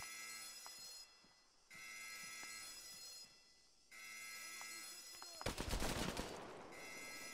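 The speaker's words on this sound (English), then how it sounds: "Oh no, I'm taking fire from the military now." Military gunfire aimed at the player in ArmA 3: a loud, dense burst of rapid shots erupts over about a second, set against a steady game ambience with soft intermittent tones.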